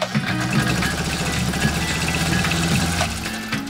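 The motor of a Singer 201-2 sewing machine, driven by a Bakelite foot control pressed all the way down, runs at full speed in a loud, steady mechanical whir with rapid clatter for a few seconds.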